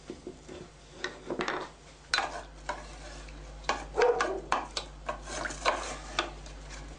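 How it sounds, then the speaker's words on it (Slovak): Diced bacon fries in a pan for Slovak halušky, with a quiet sizzle beneath repeated scrapes and clinks as the pieces are stirred, the stirring strokes coming in irregular bursts. "Keď chceme variť brinzové halušky, tak si upražíme slaninku a to si musíme nakrájať."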